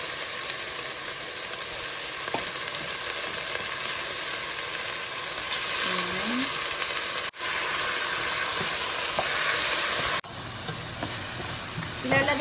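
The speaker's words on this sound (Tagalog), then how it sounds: "So unahin ko lang munang isutay itong ating chicken feet." Chicken feet sauté in a hot pan, giving a loud, steady sizzle and hiss that carries on for the whole stretch, with brief stirring scrapes and no talk.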